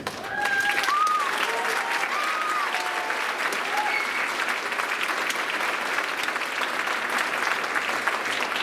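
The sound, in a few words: audience applause at school band concert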